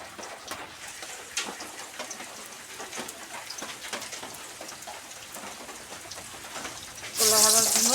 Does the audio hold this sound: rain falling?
yes